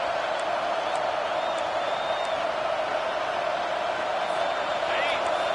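Stadium crowd in the college football video game NCAA 25 keeps up a steady, dense roar through a fourth-down play, with a commentator's voice running over it.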